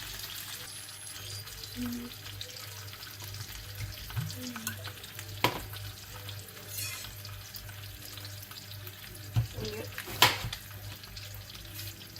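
Chicken grilling in a small frying pan, for a chicken-in-cream dish, gives a low, steady sizzle with a few scraping stirs and clinks over constant kitchen background hum.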